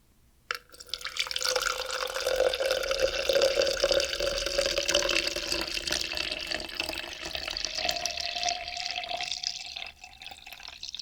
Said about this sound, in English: pour that tea straight into my fancy little cup right here